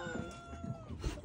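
A cat aboard a sailboat gives a couple of short, close meows amid faint background noise.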